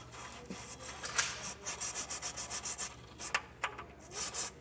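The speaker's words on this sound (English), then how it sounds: "And then run through with your brush, just clean up those threads." A brush scrubs threaded bolt holes clean, oiled with penetrating oil, while a trailer hitch is installed on a 2015 Dodge Durango. It gives rapid, rhythmic back-and-forth rasping strokes, close and fairly quiet, with no talking.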